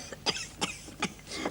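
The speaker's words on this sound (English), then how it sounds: "You still got that cough, you know." Four dry coughs from an adult in a prison-drama scene, close and fairly quiet, spaced about a third of a second apart over low room hum, with no speech.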